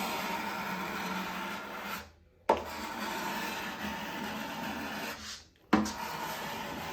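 A cabinet scraper shaves thin layers off the wooden sides of a guitar, making close, steady rasping strokes that stop twice for brief pauses before scraping resumes, with no talking.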